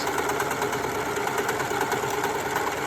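An overlocker sewing machine runs continuously as fabric feeds through, giving a steady, close, mechanical whirring hum with fast rhythmic stitching pulses and no voices.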